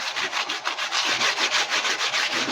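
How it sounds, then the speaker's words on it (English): Tissue is wiped back and forth over a carved wood surface, making a close, steady, rhythmic rubbing and swishing with no talk. "I'm just going to grab some tissue just so I can clean off the surface of the wood."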